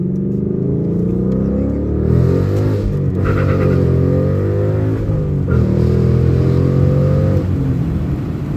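A Mustang GT engine with an MT82 manual gearbox revving up and dropping back several times as it accelerates through first, second and third gears, loud and close, with no talking.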